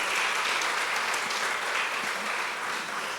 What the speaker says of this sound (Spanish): Podemos dar un aplauso fuerte al Señor y al respaldo de estos hombres, por favor.